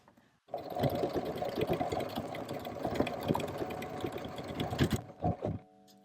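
A sewing machine runs steadily for about four and a half seconds, stitching a buttonhole in denim jeans, then stops and gives a couple of short bursts. The motor hums close and clear with no talking.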